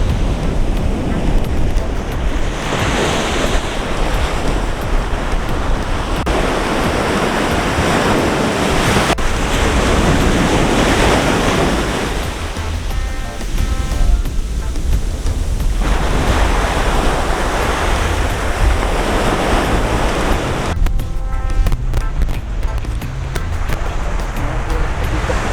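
Rough surf breaks on a wild Pacific beach in Mexico, a continuous loud roar of crashing waves and hissing wash with gusts of wind buffeting the microphone throughout.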